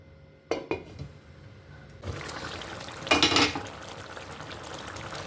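Stuffed pointed gourd (potol) going into a pan of bubbling vegetarian gravy before it is covered: a couple of quick clattering knocks, then a rising sizzle and bubbling simmer with a louder hissing surge in the middle.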